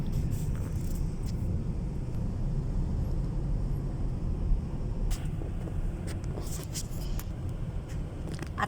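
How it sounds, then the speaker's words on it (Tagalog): Steady low rumble of heavy road traffic, a continuous dense wash of passing vehicles heard from close by, with faint scattered clatter and no clear speech. "grabe traffic pala."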